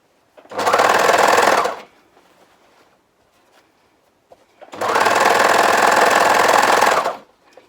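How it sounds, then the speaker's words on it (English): A sewing machine stitches seams through several fabric layers in two short spurts, each a steady close whir lasting about a second to two and a half seconds, separated by a quiet pause. "notice how I just sew in short spurts so that I can keep re-checking all my seam allowances"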